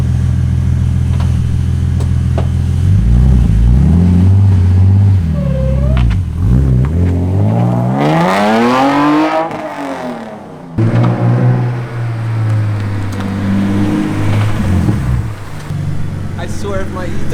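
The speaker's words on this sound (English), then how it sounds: "we could hear it like just straight to the red line" BMW E39 engine revving hard toward the redline, a loud rising then falling sweep of engine pitch lasting several seconds, with people talking over it before and after.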